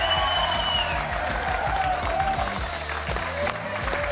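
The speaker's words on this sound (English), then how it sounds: "Keep the applause going." A studio audience on a football talk show keeps up steady applause under music, a continuous clapping wash throughout.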